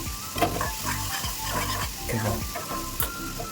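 Masala roasting in a pan for Kolhapuri-style egg bhurji, a dense, loud sizzle under repeated scraping stir strokes and light spatula clinks, close and continuous, with no speech.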